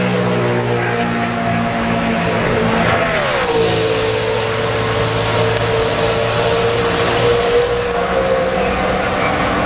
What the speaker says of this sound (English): Car looked good through turns 1 and 2.